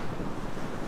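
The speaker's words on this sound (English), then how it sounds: "Whoa, the wind." Strong wind gusts across the open deck of a cruise ship at sea, a loud, continuous roaring rush over the microphone with no other sounds.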